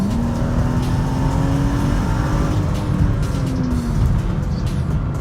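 A modified BMW 435i accelerates onto a highway, its engine a steady, moderately loud in-cabin hum with a slowly rising pitch over road noise, no talking.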